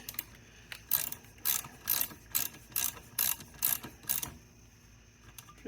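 A ratchet clicks as it tightens a jam nut during a 1997 Vespa P200E scooter rebuild: about eight quick rhythmic bursts of clicking, close and fairly loud, with no talking.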